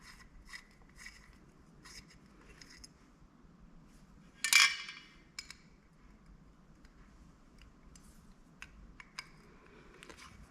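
Small metal parts click and scrape faintly while jets are unscrewed from a Solex 31 PICT-4 carburettor off an air-cooled VW, with one sharper metallic clatter midway among scattered ticks over a low hum.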